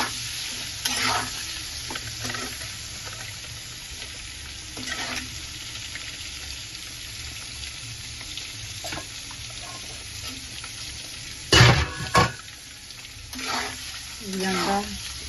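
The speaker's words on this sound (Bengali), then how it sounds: "আন্ডার গাগুলো সুন্দর করে করে করে নিচ্ছি, ফ্রাই করে নিচ্ছি" Peeled, scored boiled eggs frying in hot oil in a pan for an egg curry, a steady sizzle throughout with occasional stirring and scraping clatters, loudest near the end.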